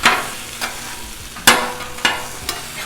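Chorizo frying on a Blackstone griddle, a steady hiss of sizzling fat punctuated by four or five sharp scraping chops of a spatula, close up with no talk.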